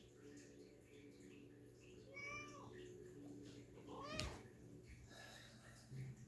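A house cat meows in a few rising and falling cries indoors, close to the microphone, over a steady background hum, with a brief louder sound near the middle.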